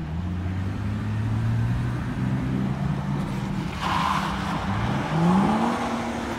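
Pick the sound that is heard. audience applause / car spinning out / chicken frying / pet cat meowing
car spinning out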